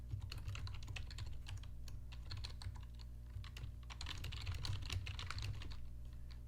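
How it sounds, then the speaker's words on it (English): Soft, steady keyboard typing as a name is entered into a Wix Studio web form, a fast run of light clicks heard close and alone with a low hum underneath. "I can type here."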